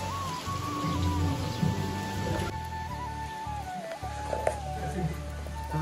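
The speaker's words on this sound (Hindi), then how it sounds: "बारिश बहुत ही तेज हो रही है" Heavy rain falls steadily on a road in Almora, Uttarakhand, a dense constant patter with a low rumble underneath, while a person talks over it.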